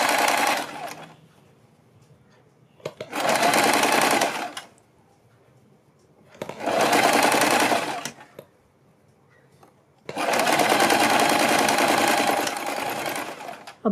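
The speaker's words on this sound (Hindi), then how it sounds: "नॉर्मल रखिए और इसको आराम से सिलते जाइए।" A sewing machine stitching a sleeve runs in four separate bursts of rapid, even whirring, with short quiet gaps between them and the final run lasting longest; no voices are heard.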